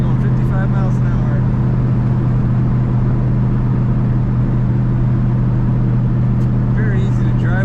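A 1936 Chevrolet Master Coupe with a floor-mounted automatic cruises at 55 mph, its steady low engine drone and road rumble droning continuously inside the cabin while someone talks over it.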